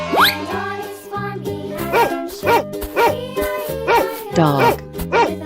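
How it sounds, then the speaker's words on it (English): A dog barks in a run of short, repeated yaps and bow-wows, loud and close, spaced roughly every half second over a busy backdrop of music or cartoon-like sound, with a faint jingle. "Dog."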